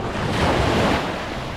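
Ocean surf washes onto a beach in August, a steady, loud wash of waves with gusty wind buffeting the microphone.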